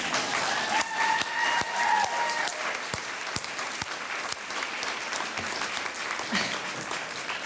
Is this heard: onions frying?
no